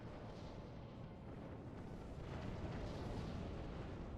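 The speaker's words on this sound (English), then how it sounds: "even those black frigates who are actually pretty tanky are going to die to missile barrage" Missile barrage explosions in the space strategy game Sins of a Solar Empire, a dense, continuous rumble of overlapping booms and bursts at steady moderate loudness with no clear gaps.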